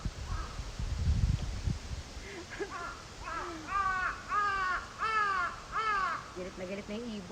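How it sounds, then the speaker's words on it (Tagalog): A crow caws repeatedly outdoors at a forest hill hotel, a run of harsh, rising calls in quick succession that follows rustling and handling noise near the start. "Galit na yung ibon."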